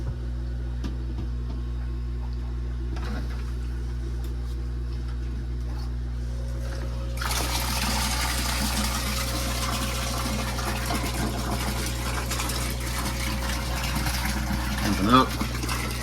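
A submersible pump in a 400 gallon pond liner aquarium comes on partway through, a constant low hum giving way to a broad steady rush of water flowing through the heater that runs on to the end.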